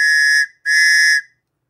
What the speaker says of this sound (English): It literally sounds like a train, but it also kind of sounds like a siren, like you're trying to signal for help.